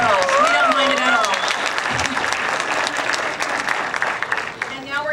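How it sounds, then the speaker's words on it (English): Enthusiastic audience applause after a high school symphonic band piece at a spring concert, a dense sustained clatter of clapping hands with a few whoops, lasting throughout and tapering slightly near the end. "you can give them another round of applause, by all means"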